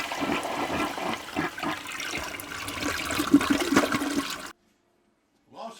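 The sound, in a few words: water draining from rinsed chili ingredients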